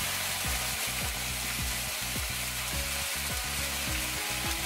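White wine hits a hot pan with garlic and chicken, producing a constant steady sizzle, with a string of short, rhythmic scraping strokes from stirring repeating throughout.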